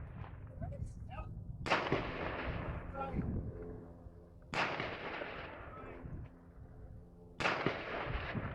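Three AK rifle shots fired at long range, each a sharp blast with a long, rumbling echo that fades before the next, spaced a few seconds apart outdoors.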